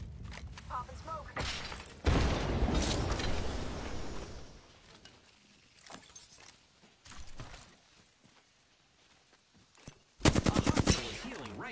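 Automatic gunfire in a battle royale video game comes as a loud burst early on, scattered shots and thuds in the middle, and a sharp rapid burst near the end, with players talking throughout.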